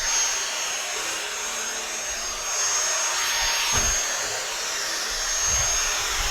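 A Roidmi X20 cordless stick vacuum cleaner runs on stairs, a loud steady high-pitched motor whir with slight swells and a brief bump of contact noise partway through.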